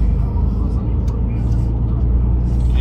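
A bus rumbles past on a roundabout in England, a steady loud low-pitched engine drone heard from inside a moving vehicle, with a voice speaking over it.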